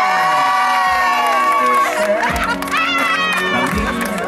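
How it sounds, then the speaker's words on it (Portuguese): A crowd at a romantic street tribute cheers, shouts and whoops loudly, with children's voices and a speaker's voice over the excited noise. "Também merece uma salva de palmas."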